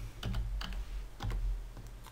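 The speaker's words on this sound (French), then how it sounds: "ici, je vais taper Géoportail." Someone types a website name on a computer keyboard, several close, soft keystrokes in short irregular clusters against a quiet room hum, no speech.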